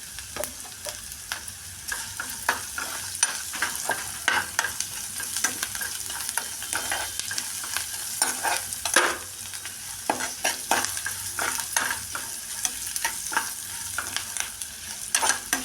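Onions sauté in a pan with asafoetida, a continuous close sizzle punctuated by frequent sharp scraping stirs of a spoon against the pan.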